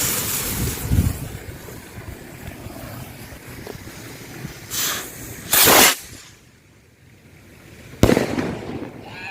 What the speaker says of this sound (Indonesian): itu dia ya mercon luncurnya